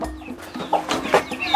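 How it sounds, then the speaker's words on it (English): Hens in a village coop in Africa give several short, close clucks in an uneven rhythm, with no voices over them. "this place over here, it's exclusively for the chickens, for the hens."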